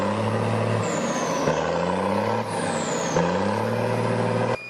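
An M35 cargo truck with a heavy diesel engine drones steadily and loud as it heads into a deep mud puddle, its pitch shifting with two rising whining sweeps and a brief dip midway.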